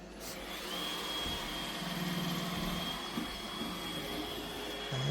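A robot vacuum cleaner runs indoors with a steady, close whirring motor hum and a thin high whine, continuous throughout with no talk.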